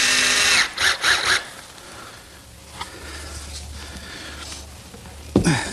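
A power drill drives screws into small plywood blocks on a student's desk, with two short loud whirring bursts at the start, then a quiet stretch of low hum and faint handling, ending with a sharp thump.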